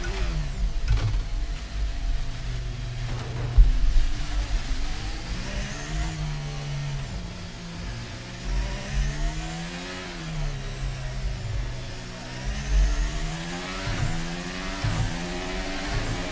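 An F1 car in F1 23 at Monaco, its engine rising and falling in pitch as it accelerates and shifts through gears, loud and continuous with a rhythmic swell of revs.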